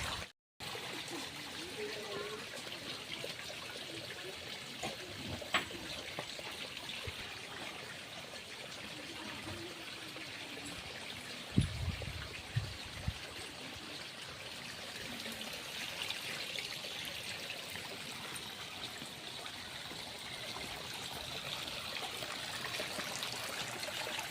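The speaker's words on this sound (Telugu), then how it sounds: "అక్కడ కొండ నుంచి వస్తుంది నీళ్ళు బాగా వస్తున్నాయి చక్కగా" Water flowing down from a hillside trickles steadily in the background, faint and continuous, with a few soft knocks and splashes.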